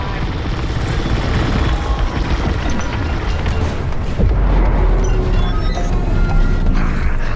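Loud, continuous roar of explosions and engine rumble from bombs dropping in the space combat video game Star Wars Squadrons, with a heavy boom about four seconds in that swells the noise.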